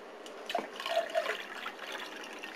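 Liquid poured into a homemade brew, a brief close trickling splash that rises and fades within a couple of seconds.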